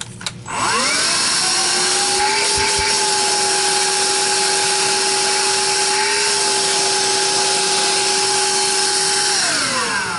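A budget cordless pet vacuum cleaner runs on boost mode. It starts up in a rising whine, then holds a loud, steady high-pitched motor drone with a few light clatters and winds down at the end.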